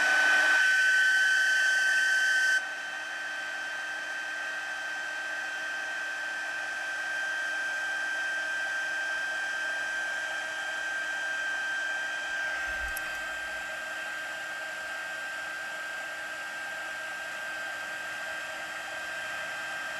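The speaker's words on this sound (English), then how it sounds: "So I'm going to take my heat tool here." A handheld heat tool blows hot air to melt silver embossing powder on a handmade holiday gift card holder, a steady close whine and airy rush that drops slightly in level after a few seconds and continues alone.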